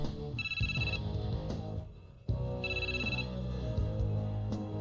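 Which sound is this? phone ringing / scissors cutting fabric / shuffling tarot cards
phone ringing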